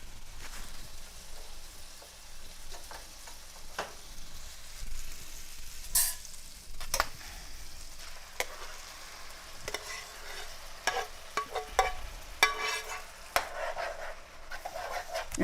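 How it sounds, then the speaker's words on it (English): Sausage and chopped vegetables sizzle steadily in a hot skillet while being stirred for a quiche, a soft continuous frying hiss broken by scraping and clinks of the utensil against the pan. "I'm going to go ahead and put the vegetables over into this skillet so we can mix them up"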